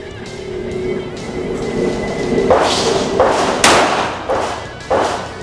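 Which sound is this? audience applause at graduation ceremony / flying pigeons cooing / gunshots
gunshots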